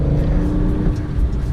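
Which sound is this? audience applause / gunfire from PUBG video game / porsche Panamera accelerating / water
porsche Panamera accelerating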